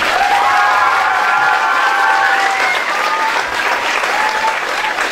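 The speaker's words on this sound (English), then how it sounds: "What about a round of applause for Alex?" Steady, loud applause from an audience at a dance competition, with scattered cheers and whistles riding over the dense clapping for the full five seconds.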